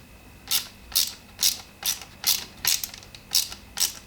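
A hand ratchet tightens bolts back into a car, eight crisp clicking bursts in an even rhythm, close and loud with nothing else heard.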